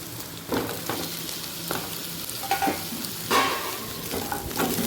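Potatoes and pointed gourd being stirred in hot oil, with scraping spoon strokes and soft clatters at irregular intervals over a steady low sizzle, close and moderate in level.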